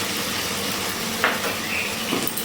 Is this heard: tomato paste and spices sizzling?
yes